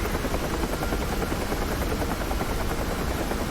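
A UH-1H Huey helicopter flying over Dubai in the DCS flight simulator, heard from the cockpit in VR; a loud, constant rotor thump and turbine roar continues without a break and no one speaks.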